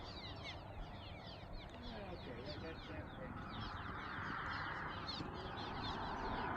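Flock of birds, likely ducks or fowl, calling near Kremmling, Colorado in a mosquito-free spot, with continuous overlapping chatter and quacking-like calls over wind and background noise.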